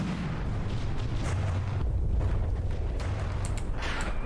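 HESH frag shells firing and exploding in the naval battle game From the Depths, a dense, continuous rumble of booms and blasts with scattered sharper cracks, loud and unbroken throughout, with no voices.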